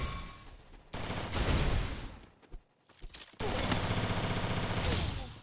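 Dense automatic gunfire from the Free Fire video game in two long loud bursts separated by a short lull with a few isolated shots, close and continuous.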